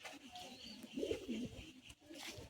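A pigeon at the Uluberia pigeon market gives a soft, short throaty coo against a quiet, murmuring background.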